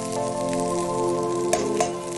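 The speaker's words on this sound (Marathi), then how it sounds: "तेलात उगी जरासं ते पावते परतून घेणार ते" Steady oil sizzle from fresh field beans (pavta) frying in a pan, continuous and close, with a couple of brief clinks partway through.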